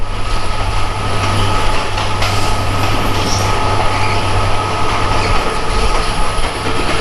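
The Chilahati Express passenger train runs through Ahsanganj railway station without stopping, heard from on board as a loud, steady rumble of wheels on rails with clattering and a low hum throughout.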